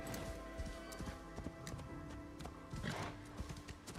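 A horse's hooves clop and thud at a run through dense forest in Assassin's Creed Shadows, quick irregular hoofbeats with soft brushing sounds, fairly quiet and close throughout.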